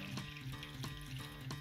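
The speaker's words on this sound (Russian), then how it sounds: "Налейте воды." Water being poured into a small jar as a base for homemade slime, a soft continuous trickle with faint rhythmic knocks, heard close and alone.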